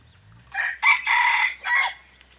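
A young Thai fighting rooster crows nearby, one loud, strained call broken into several rising and falling bursts, with a faint low hum underneath.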